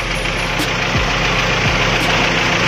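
A car engine idles loudly and steadily up close while the radiator fan runs, giving a constant whirring drone over a low rumble, with a couple of brief pitch dips.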